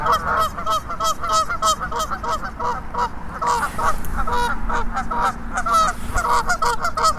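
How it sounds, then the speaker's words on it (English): A flock of geese at a fishing lake honks loudly and repeatedly in rapid overlapping calls, close by, continuing throughout. "Hope you can hear me beyond these noisy geese."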